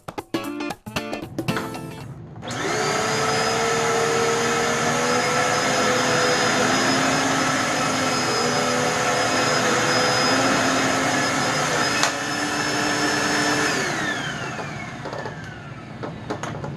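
A Dirt Devil Purpose For Pets vacuum cleaner powers up after a few knocks and runs loud and steady with a high motor whine, then winds down near the end.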